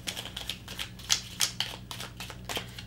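Tarot and oracle cards being shuffled close up at a quiet reading table, a run of soft papery riffles and taps in uneven bursts with no talking.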